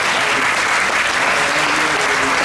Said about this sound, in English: A big applause to Devaki.